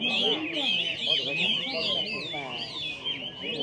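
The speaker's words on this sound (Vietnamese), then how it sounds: "Đây, mọi người có thể nghe thấy tiếng chim hót nha mọi người nhá." Many small birds sing and chirp together at a rustic rural market, trills and whistles overlapping continuously and close by, with faint murmur of people in the background.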